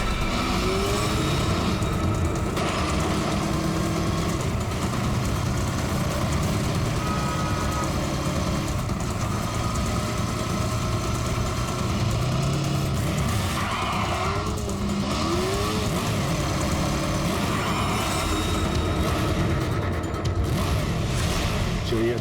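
A motorbike engine roars loud and continuous through a chase scene in a crime drama, with tire skids and traffic noise layered over it and a few voices in the mix.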